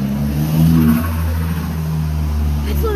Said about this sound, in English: I thought that car was flipping out